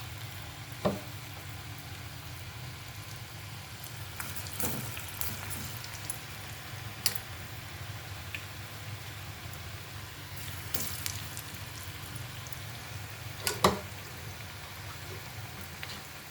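Potatoes for Aloo 65 frying in hot oil in a kadai, a soft steady sizzle with a few sharp pops and clinks scattered through, quiet and close with no talk.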